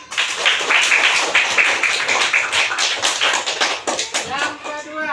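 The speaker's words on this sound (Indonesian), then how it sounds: "Tepuk tangan." A classroom of pupils claps hands in a rapid, fairly loud burst of uneven claps lasting several seconds, with children's voices mixed in toward the end.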